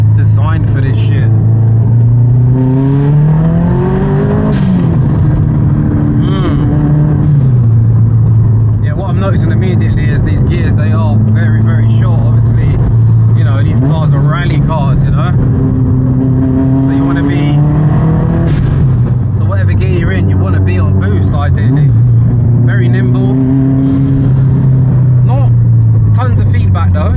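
A 400 hp Subaru Impreza STI Spec C engine heard from inside the car, droning and rising and falling through repeated revs and gear changes during rev matching, loud and continuous, with someone talking over it.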